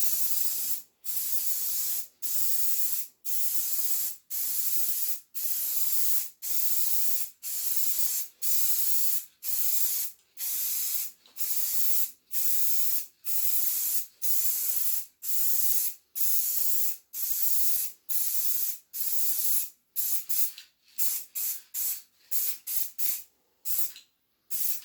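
Heavy coats of spray are laid onto a pinball backglass in a long series of loud, hissing aerosol bursts, steady and evenly spaced at first, then quicker and shorter toward the end.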